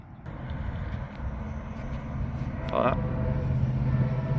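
A low, steady rumble of an approaching Amtrak train in northern Florida, travelling around 60 mph, gradually swells louder, with faint voices and outdoor noise over it.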